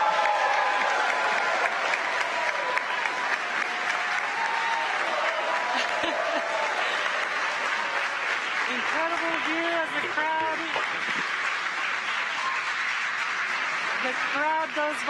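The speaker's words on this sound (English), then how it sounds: "the crowd goes wild for Crew 4" A crowd cheers and applauds continuously as the SpaceX Crew Dragon Freedom splashes down with the Crew-4 astronauts, steady clapping and whoops beneath a commentator's voice.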